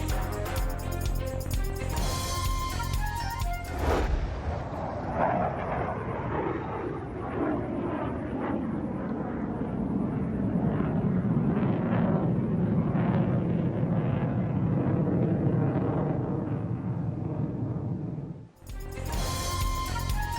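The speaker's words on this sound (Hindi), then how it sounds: "इस्लामाबाद के आसमान पर फजाइया के शाहीनों की शानदार एंट्री" A loud roar of Pakistan Air Force military jets sweeps overhead in a flypast over Islamabad, rising and fading with a broad rushing sound over a constant background of music and noise.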